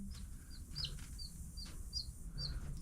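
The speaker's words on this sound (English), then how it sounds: "I hear it chirping." A baby chick chirps under a heat lamp in a brooder, a series of short high peeping calls in uneven bursts, faint and close over a low background hum.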